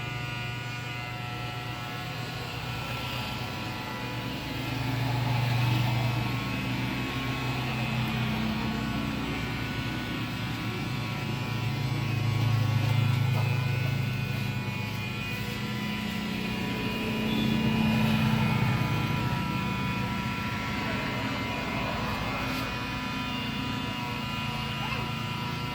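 An electric hair trimmer buzzes steadily through a men's haircut, swelling slightly in loudness a few times as the blade passes over the head, with a constant low hum underneath.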